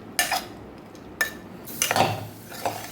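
Ground peanuts being mixed into a dry potato sabzi in a pan, a few sharp scrapes and clinks of a spoon against the metal pan spaced across a quiet background, near and fairly loud.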